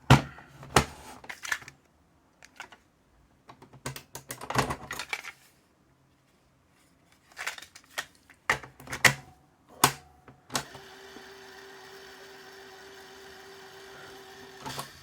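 A BASF LH cassette running in a tape deck gives scattered mechanical clicks and clunks, then a steady hiss with a faint constant hum from the transport once playback begins, close and fairly quiet, with no voices.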